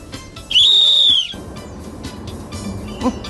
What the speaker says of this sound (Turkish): Gerektiğinde yerimizi tespit etmek için deprem düdüğü.